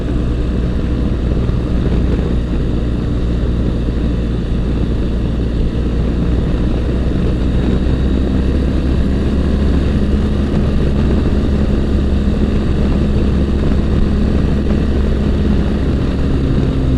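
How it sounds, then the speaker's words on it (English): Steady, loud droning hum of a new motorcycle riding on a dry, clear road, blending engine and tire road noise into a constant low rumble heard close from a helmet mic, with no pauses. "Tires have a little bit of road noise,"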